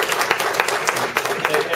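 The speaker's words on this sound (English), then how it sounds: "I want to give her a round of applause" A room of club members claps in a dense, close burst of applause with a faint voice underneath.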